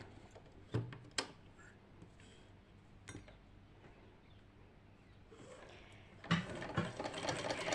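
Sewing machine running a straight stitch across shirt pleats, quiet with a few sharp mechanical clicks and short bursts of stitching, then a louder whirring run near the end.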